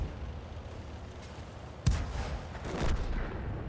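A tank gun firing in a World of Tanks-style video game, one sharp loud blast followed by rumbling crackle and a second swelling burst over steady low background noise.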